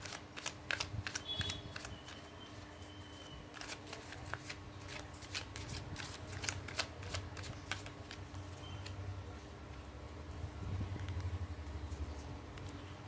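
Tarot cards are shuffled and drawn in quick, crisp riffling bursts, faint and close, with soft card slaps and rustles over a low background hum.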